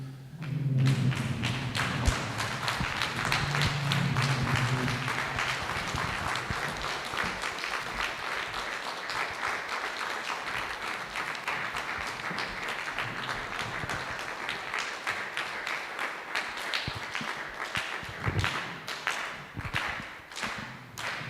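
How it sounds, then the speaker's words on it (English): Standing audience at a Walter Sisulu Local Municipality state-of-the-municipality address breaks into sustained applause, dense steady clapping with scattered thumps lasting around twenty seconds, no voices over it. "Can we all rise and give a round of applause?"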